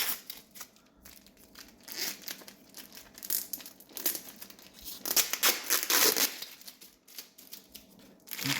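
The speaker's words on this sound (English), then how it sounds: "So let's take this tape off." Packing tape peeled off a plastic mushroom-growing bucket indoors, heard as a run of crinkly, crackling tearing bursts that swell and fade irregularly up close, with no talk.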